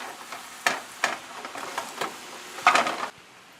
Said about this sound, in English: And you just want to mix until all the color is distributed,